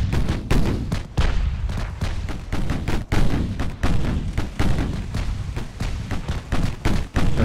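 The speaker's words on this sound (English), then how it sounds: "There's your salvo of the quintuple launcher." A torpedo salvo launches from a quintuple launcher during a light cruiser naval battle in Ultimate Admiral Dreadnoughts. Dense, rumbling battle noise is broken by a steady run of heavy thumping bursts.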